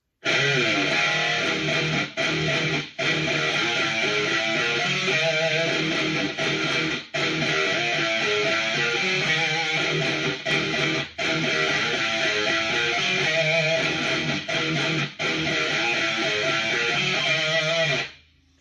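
A distorted electric guitar plays a continuous riff with sliding notes and wavering vibrato, loud and steady before cutting off at the end.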